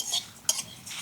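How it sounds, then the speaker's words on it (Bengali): Cumin and other whole spices dry-roast in a wok for mango pickle, stirred with a metal spoon that gives three quick, close scraping strokes with no sizzle. "এবার আমি মশলাটা ভেজে নিই।"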